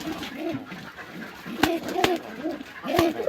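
A female pigeon brooding her eggs in a loft coos in repeated soft, throaty phrases, close and steady, with a few sharp clicks and rustles between the calls.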